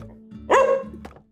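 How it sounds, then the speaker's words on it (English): A dog barks once, fairly close, a short sharp bark in an otherwise quiet room during a live stream, with faint background hum. "Sorry for the dog barks."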